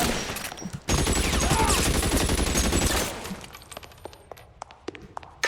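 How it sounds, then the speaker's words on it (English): Tommy gun firing in L.A. Noire: one long, loud, continuous rattling burst of automatic fire, then scattered single shots and clattering impacts that thin out and fade. "and I got that sweet Tommy gun too"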